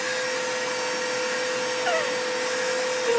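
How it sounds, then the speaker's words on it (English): A vacuum cleaner runs steadily nearby with a constant droning whine, its pitch wavering briefly partway through. "He has no fear of the vacuum cleaner anymore."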